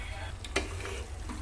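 Non-veg curry with goat trotters, blood fry or chicken pieces frying in oil in a pan, with a steady soft sizzle and a few scraping stirs, a slightly louder scrape near the middle.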